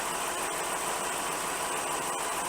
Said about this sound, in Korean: 지금 시동을 건 지 한 3, 4분 됐고요.